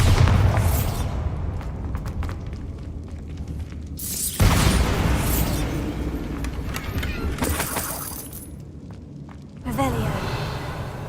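Confringo and Bombarda spell blasts in Hogwarts Legacy, two or three loud booming bursts with crackling tails spread across the span, spoken incantations heard between them.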